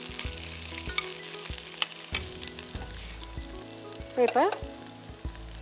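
Adamant creeper (pirandai) and chilies frying in a pan, a steady close sizzle with occasional scraping stir strokes and a brief louder hiss burst near the end, while a voice speaks a single word.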